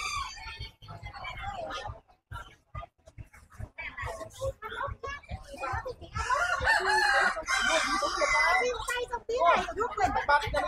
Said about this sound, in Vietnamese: mình nhìn thấy con gà Đông Tảo